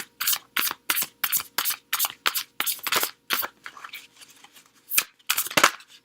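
A deck of cards being shuffled by hand in a quiet room, a run of crisp riffling bursts in quick rhythm, close and clear, followed by a few softer shuffles and a final riffle.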